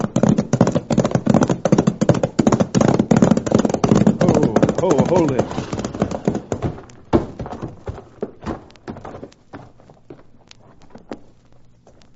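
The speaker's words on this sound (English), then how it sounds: "Come on, let's prod up these horses." Horses' hooves clip-clop in an old-time radio drama as a wagon party crosses a level plain, a busy patter of hoofbeats under dialogue that thins out and fades over the second half.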